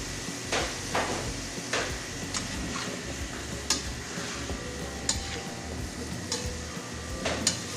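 Sliced beef frying in a pan for roast beef, with a steady sizzle beneath repeated scraping and stirring clicks from a utensil, close and moderately loud, no talk.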